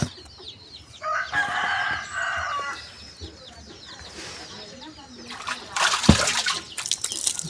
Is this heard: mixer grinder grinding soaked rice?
no